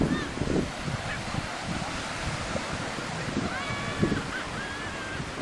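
Birds at the beach honk a few times, faint and somewhat distant, over constant surf and wind noise, with people talking intermittently.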